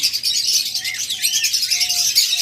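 Diamond lovebirds chirp and squawk in a dense, continuous chatter of high, shrill calls, close and loud with no talking over it.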